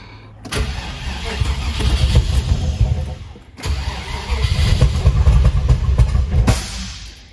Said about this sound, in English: try to start the engine again